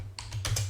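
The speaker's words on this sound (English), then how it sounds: "So I'm just typing in anything" A few quick keystrokes on a computer keyboard, short sharp clicks close to the microphone over a steady low hum.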